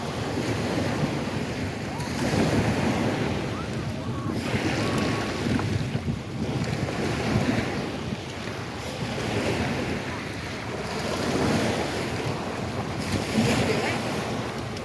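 Ocean surf rolling onto Fort Myers Beach, Florida, a steady loud wash of breaking waves that swells and recedes every few seconds, with heavy wind rumble buffeting the microphone.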